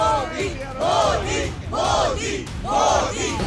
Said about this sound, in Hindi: होटल के बाहर हजारों की भीड़ जुट चुकी थी।